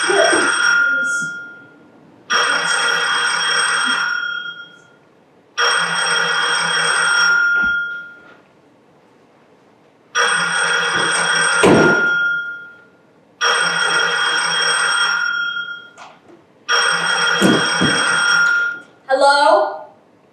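Telephone bell ringing on stage in a school production of a play, six long electric rings in a steady pattern with pauses between, fairly loud and close, with brief voices between the rings.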